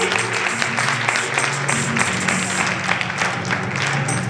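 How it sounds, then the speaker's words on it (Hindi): Loud, dense audience applause at a convocation ceremony, a sustained crowd clapping evenly from start to finish with a faint low hum beneath. "कृपया जोरदार तालियां बजाइए।"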